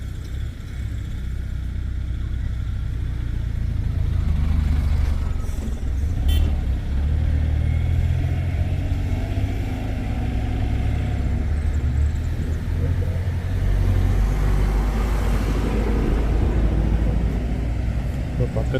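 A car travelling along a forest road near Bandipur, with a steady low engine and tyre rumble throughout, rising slightly in the middle and near the end, while people talk inside the cabin.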